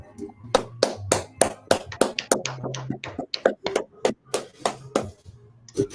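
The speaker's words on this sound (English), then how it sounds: "All right, clap it up." A few sharp, separate hand claps from a small group, spaced irregularly with a voice speaking between and over them.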